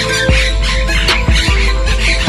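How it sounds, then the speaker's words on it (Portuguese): White-throated parakeets squawk in the Pantanal wetland, with several sharp, harsh calls repeating at close range over a constant low hum and busy background noise. "O periquito de papo branco se camufla entre as folhas, mas a gritaria não deixa dúvidas."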